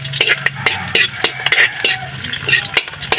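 Ginger sautéed in a pan with garlic while cooking patola with sardines, a steady busy scrape-and-sizzle of stirring with rapid clicking utensil strokes against the pan, loud and near.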